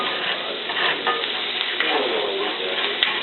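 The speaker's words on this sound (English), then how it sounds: "I just want to saute these a little bit. Kind of get the good yummies off the bottom here of the pork chop that cooked onto the skillet." Pork chop drippings sautéing in olive oil in a skillet, a continuous even sizzle with faint scraping as the browned bits are stirred off the bottom, no voices.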